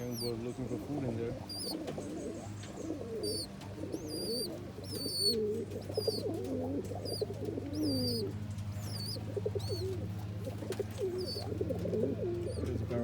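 Reverse wing pouter pigeons cooing in a loft, repeated low throaty coos overlapping through the whole stretch, with someone talking intermittently and occasional high chirps above.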